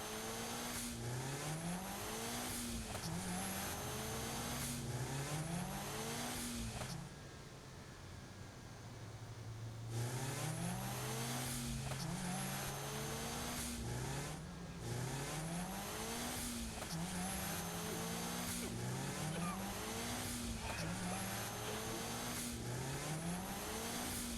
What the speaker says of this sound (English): Your car is not in sync at all when changing gear.